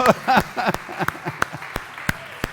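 A voice calls out at first, then a church congregation gives a scattering of sharp individual claps, sparse and uneven rather than a full round of applause.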